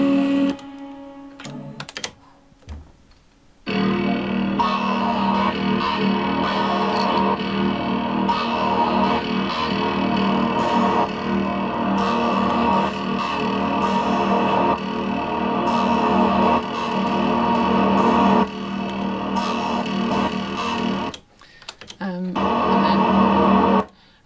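Trumpet track in a studio mix, drenched in a huge long reverb with a ramped gate on the volume, heard as sustained washy tones that swell and cut off abruptly, with brief gaps between passages.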